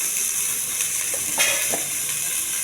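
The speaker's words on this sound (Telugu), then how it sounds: "కొద్దిగా ఆయిల్ వేయాలండి. వేసి పెట్టుకున్న ఉల్లిపాయ ముక్కలు," Chopped onions frying in oil for an okra curry, giving a steady, close sizzle with faint hiss and a few soft stirring clicks around the middle, no voices.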